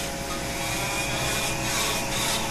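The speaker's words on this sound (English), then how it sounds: "how the balsa wood is fluffing off and going over everything, over my hands, on the table" Balsa wood is carved at a table beside a Vac-U-Shield vacuum dust shield, giving a dense, steady whirring and grinding drone throughout, close and even in loudness, with no talking.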